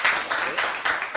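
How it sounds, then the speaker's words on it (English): Audience applause at the close of a talk on innovations in impact and measurement, a short burst of many hands clapping in a room, moderately loud and swelling in small waves. "let's give a applause"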